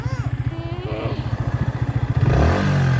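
An electric three-wheeler at a rural garden home in Nong Khai, Thailand, pulls away with a close, steady pulsing drive noise that grows louder and rougher as it speeds up, with a voice briefly heard early on.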